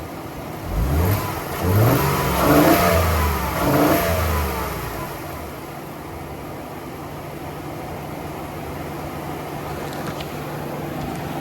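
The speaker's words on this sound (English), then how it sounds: "I'll rev it for you so you can hear it." A 2023 Ford Expedition Max SUV engine revs up twice in quick succession, rising and falling in pitch, then settles back to a low, steady idle.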